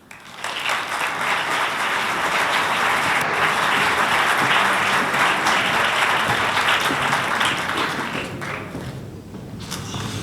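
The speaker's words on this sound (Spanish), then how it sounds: "Endavant, un aplaudiment." An audience at a Lorca-themed official-section performance breaks into sustained, dense applause lasting several seconds, loud and close, before tapering off near the end.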